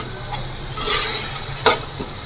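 Chopped onions and ground garlic fry in a pan for beef kofta curry while being stirred. A soft, steady sizzle runs under close scraping stir strokes, with one sharper scrape near the end.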